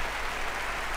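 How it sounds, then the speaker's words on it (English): A church audience at a comedy performance breaks into a round of applause, dense steady clapping heard briefly from within the crowd. "A round of applause"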